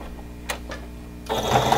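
Sewing machine stitching down the sides of a fabric face mask about an eighth of an inch from the raw edge, a steady close hum after a couple of brief clicks, then louder rapid stitching.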